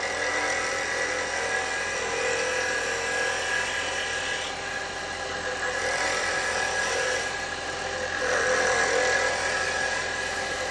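A roughing gouge cuts a wooden bowl spinning on a lathe, making a continuous, fairly even hiss and whir with a steady tone, close and moderately loud, swelling slightly near the end.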